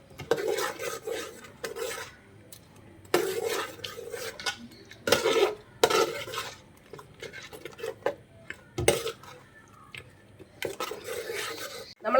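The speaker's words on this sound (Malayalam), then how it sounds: "അരപ്പ് ചേർത്തിട്ട് നന്നായിട്ടൊന്ന് ഇളക്കി കൊടുക്കാം." A spoon scrapes and clatters in a pot as coconut and cashew paste is stirred into a Kottayam-style duck mappas curry, bursts of metallic scraping alternating with quiet pauses, close and moderately loud.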